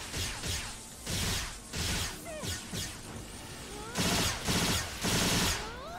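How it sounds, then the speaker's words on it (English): Gunfire aimed at a flying enemy in the online action game Phantasy Star Online 2 New Genesis: several bursts of shots and impact crashes with whooshing effects, loud and close, with brief talk between the bursts. "I'm gonna shoot this thing out of the air since it's right here"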